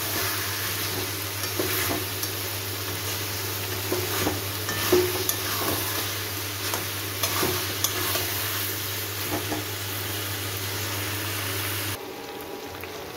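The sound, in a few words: chicken sautéing in a pan on medium-high heat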